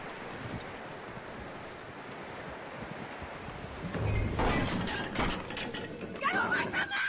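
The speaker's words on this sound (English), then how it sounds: "That looks like a decent horse." Horse hooves clip-clopping in a video game, a soft rhythmic clopping under faint ambience that grows louder and busier in the last few seconds.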